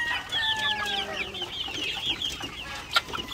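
Barred rock chickens clucking close by, a busy run of short overlapping clucks and chirps with one sharper squawk near the end.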